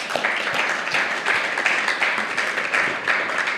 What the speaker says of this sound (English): Let's give Jeremy a round of applause, folks.